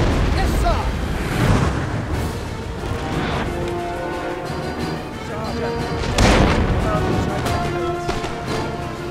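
Howitzer artillery booms in a Napoleon Total War battle between Britain and France, heavy blasts rolling over continuous battlefield din, with a strong burst early on and another loud impact after about six seconds.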